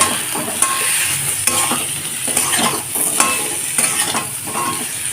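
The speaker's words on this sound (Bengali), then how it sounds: "এখন ভালো করে কষে নেব" Spices frying with tomato, potato and onion for a Bengali fish curry, giving a loud close sizzle broken by repeated scraping stirs at an uneven rhythm, with no talk.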